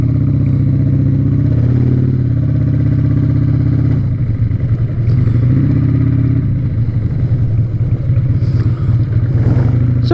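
Harley-Davidson XR1200 motorcycle engine running close by with a loud, steady low rumble, rising briefly in revs a couple of times before settling back.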